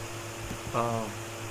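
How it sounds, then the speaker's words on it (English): A computer's cooling fan runs as a steady, low, close whir with a faint tonal hum underneath, briefly overlaid by a short, soft vocal murmur. "Sorry about my fan noise. Sometimes my fan gets a little hot on my computer."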